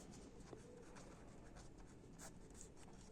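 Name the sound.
writing on paper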